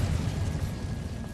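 An Incendio fire spell cast in Hogwarts Legacy produces a heavy, booming whoosh of flame with a rumbling low roar that holds steady for over a second, heard alone without talk.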